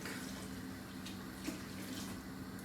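Water pouring steadily into a pot of mushroom soup on the stove, a continuous soft splashing rush lasting a few seconds, fairly quiet with no talking.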